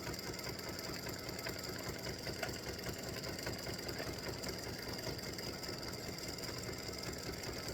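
Embroidery machine stitching out freestanding lace Halloween spider earrings, a steady fast mechanical chatter running at constant level throughout, with no voices.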